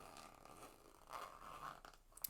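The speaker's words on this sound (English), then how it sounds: "Closing the zippers" Zippers being closed on leather crossbody handbags, a soft close scratchy zipping run with small clicks and rustles, quiet and intimate with no speech.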